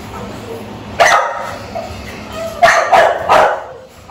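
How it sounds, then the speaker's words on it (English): A dog barks close by, a sharp bark followed shortly by two or three more in quick succession, with quiet background between them. "Just look at his dog, man."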